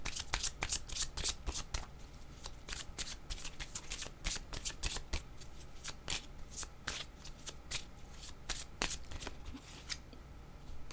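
A deck of yellow cards being shuffled by hand, a rapid run of crisp riffling flutters and soft slaps repeating steadily throughout, close and fairly quiet with no voices.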